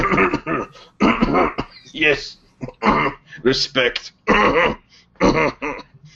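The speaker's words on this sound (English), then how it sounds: "Akula starts laughing so hard he has to start coughing to cover it up" A tabletop role-player clears his throat and coughs repeatedly in short bursts to mask laughter, the coughs alternating with spoken words from nearby voices.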